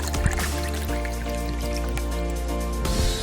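A Bloody Mary is poured from a shaker into a glass, a soft continuous trickle of liquid with small drips, heard close over steady background music.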